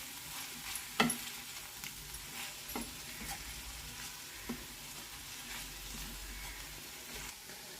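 Green chili and garlic frying gently in a pan, a faint steady sizzle with occasional soft clicks and crackles, one sharper tap near the start.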